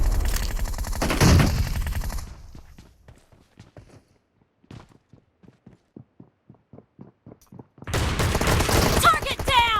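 Heavy gunfire from an M1014 shotgun in the PUBG Mobile video game during a team match, with dense loud bursts at the start and end and a rhythmic series of sharp clicks and steps in between.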